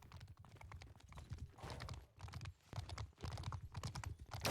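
Horse hooves clip-clop in the cRPG2 medieval combat video game, a continuous rapid galloping rhythm of fairly close hoofbeats running throughout without any talking.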